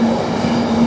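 A late-running GBRf train passing through March railway station, heard as a steady, loud rumble with a faint ringing tone throughout a brief moment of passage.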